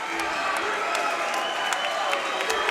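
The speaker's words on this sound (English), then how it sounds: "All I know is the crowd are going crazy." A crowd at an MMA fight cheers and applauds loudly and continuously, a dense roar with scattered sharper claps throughout, while a commentator talks over it.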